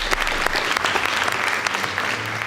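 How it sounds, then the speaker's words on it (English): Audience at a school debate competition applauding the Lenana School team: steady, dense crowd clapping with a few sharper individual claps standing out, continuous for a couple of seconds. "Please give them a round of applause."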